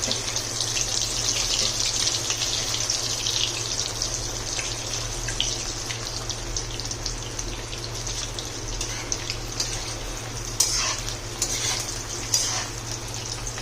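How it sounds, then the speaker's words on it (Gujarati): Cheese balls deep-frying in oil over a high gas flame, a steady close bubbling hiss with occasional brief crackles and pops, over a constant low hum, no talk. "તો આ રીતે આપણે વારાફરતી બધા બોલ્સને તળી લેશું અને ગેસની ફ્લેમને હાઈ જ રાખવાની છે"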